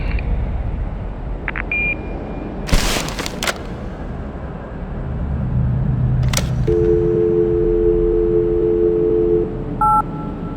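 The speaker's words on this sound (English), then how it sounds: "If you leave a message after the beep, someone will get back to you shortly." Answering machine sounds in The Darkness video game: a few short clicks and electronic blips over steady hum, then a sustained two-tone beep lasting a few seconds, followed by brief higher tones.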